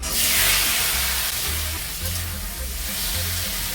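Chopped tomatoes dropped into hot oil tempered with whole dried red chillies and five-spice seeds for tomato chutney: a loud, bright sizzle and hiss bursting up at once, then settling into steady frying.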